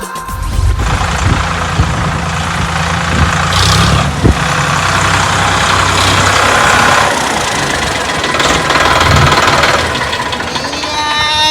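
A heavy tractor engine rumbles and idles steadily up close, with occasional knocking, throughout.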